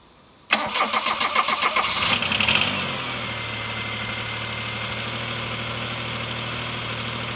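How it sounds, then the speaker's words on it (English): Bored and stroked G10 one-liter three-cylinder engine in a 1991 Chevy Sprint with a new exhaust cranks for about two seconds, catches and settles into a steady, fairly quiet idle, heard close with no talking. "Sounds a lot quieter, a lot tamer with the new exhaust system on it than the other car."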